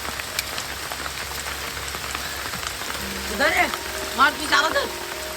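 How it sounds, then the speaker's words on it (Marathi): Steady, dense hiss of heavy monsoon rain pouring down in Konkan, with a few short tonal calls rising over it near the end. "तुम्ही बाहेर बघा पाऊस किती पडतोय"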